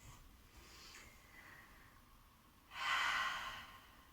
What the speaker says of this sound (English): taking 3 deep inhales and exhales through your mouth